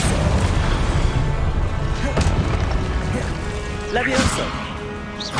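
The Depulso force spell is cast in Hogwarts Legacy, producing booming, thudding impacts that cut through a dense layer of game music and effects, with a couple of sharper hits standing out.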